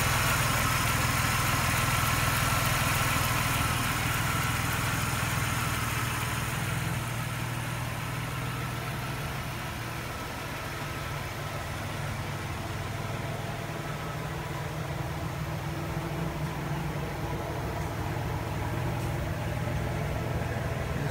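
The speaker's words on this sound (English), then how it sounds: "A nice sounding exhaust for a V6." A 1995 Pontiac Firebird V6 engine idles steadily with a deep, rumbling exhaust note, continuous and fairly close, with no talking.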